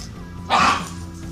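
One short dog bark sounds fairly close indoors in a kitchen, a single quick burst over low background hum with no talking.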